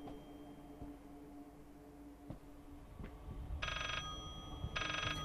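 In the horror video game Layers of Fear, a telephone rings in two short electronic bursts late on, heard over a low, murky ambient hum with occasional soft knocks.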